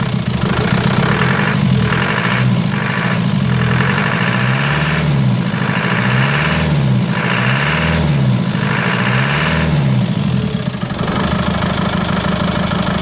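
Land Rover 200 TDI diesel engine from a 1990 project vehicle idling, a steady close rumble with a rhythmic knocking pulse and slight rises and falls in revs.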